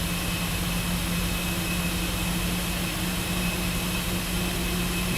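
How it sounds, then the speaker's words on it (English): Steady, loud roar of Airbus A330-300 jet engines in the X-Plane 12 flight simulator, a continuous broadband drone with a low hum that holds constant throughout, with no talking. "Hell of a sound from a default plane."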